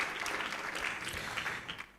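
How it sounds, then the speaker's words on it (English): A crowd at an institute's anniversary celebration and general meeting claps for the younger members, a soft, continuous patter of applause heard from some distance that tapers off at the end. "I think we should clap for the younger ones"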